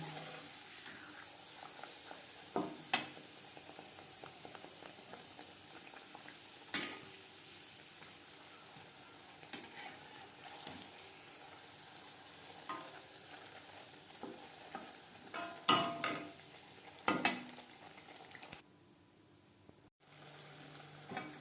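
Green pea kachori frying in hot oil, a steady soft sizzle with scattered sharp crackles and pops, fairly quiet and heard alone without talk.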